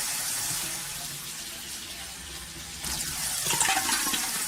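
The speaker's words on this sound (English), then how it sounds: "washing little dishes. The water kind of loud, like I can't even hear it." Steady rush of running tap water from a sink during dishwashing in a video game, a continuous broadband hiss that swells slightly louder partway through, with no voices.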